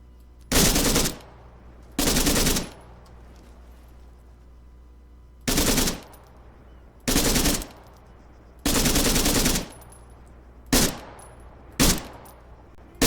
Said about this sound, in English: This fires in both burst fire and full auto